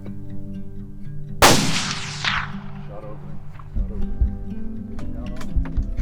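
A single sharp rifle shot fired from a pickup at a pronghorn antelope buck in Nevada, loud and close with a long rolling echo that fades over open country, followed by quiet voices and light rustling.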